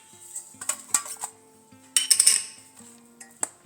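Dishes and small steel bowls clink and knock as a knife loosens steamed snacks from them, with scattered sharp metallic taps and a denser cluster of clatter midway, close and fairly quiet.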